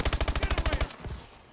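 Rapid automatic assault rifle fire from a Call of Duty match, a tight burst of about thirteen evenly spaced loud shots followed by a fading echo and a couple of softer trailing reports.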